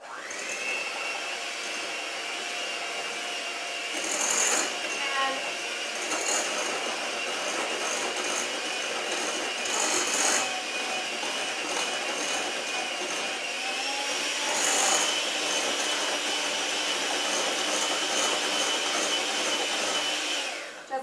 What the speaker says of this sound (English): with an electric beater, I'm just going to go ahead and mix all of these together